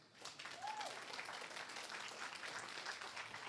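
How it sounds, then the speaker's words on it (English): Audience round of applause at a crypto brand launch conference, a steady fairly faint wash of clapping in a large room. "Can everyone please give him a round of applause"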